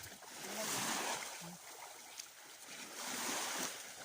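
Waves wash onto a coral beach on Palaui Island in slow, surging swells, with wind noise and a faint voice or two in the background.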